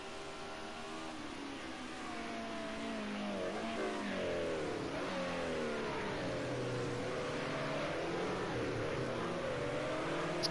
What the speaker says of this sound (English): You can hear Scooby going through the bus stop chicane.